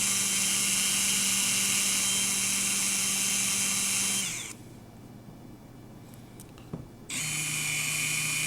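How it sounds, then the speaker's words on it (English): A power drill whines steadily up close while boring a hole near the fuel line of an Arctic Cat 300 4x4 golf cart, stopping briefly for a few seconds of quiet before spinning up again. "I'm not all the way through, but I just started drilling"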